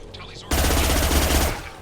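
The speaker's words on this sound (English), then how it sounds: "That's my kind of machine gun." SMG fire in Mass Effect 2 Legendary Edition, a dense one-second burst of rapid shots that cuts in sharply and stops abruptly over steady game background noise.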